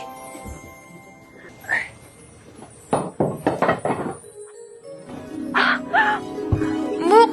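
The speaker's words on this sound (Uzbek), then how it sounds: "Bu qush-ku." A crow caws a few times in an outdoor setting, the harsh calls coming in short bursts between voices talking and some thumping sounds.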